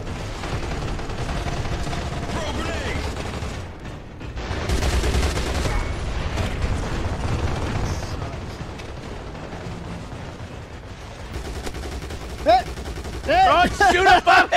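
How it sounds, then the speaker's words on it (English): Video game shootout with sustained gunfire and explosive booms running under a busy mix of sound, ending in a few sharp, loud shots, while a person talks throughout. "Shoot him up. You shot everywhere but him."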